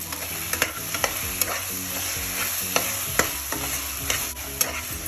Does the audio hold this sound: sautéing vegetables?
yes